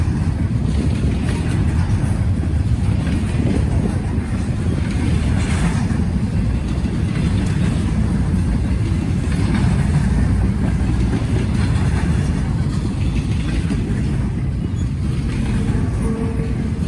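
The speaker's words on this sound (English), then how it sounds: "this train just feels long" A long freight train rolls steadily past a railfanning spot in Muncie, a continuous low rumble close by with heavy wind buffeting the microphone throughout.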